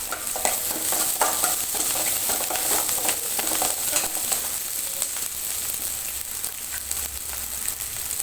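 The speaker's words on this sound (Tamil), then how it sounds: "கருவேப்பிலை போடுறோம்." Curry leaves hit hot oil for a bitter gourd tamarind kulambu and sizzle loudly and up close. Steady frying hiss is broken by repeated clacks of stirring, with no one speaking.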